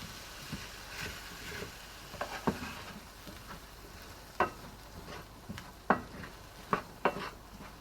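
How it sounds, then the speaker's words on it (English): A spoon crushes cooked potatoes in a pan for vegetable samosa filling, giving scattered soft scrapes and a few sharper clicks of metal on the pan across several seconds, with no talk. "we're going to add the potatoes in. And with the spoon we're going to crush them up a bit"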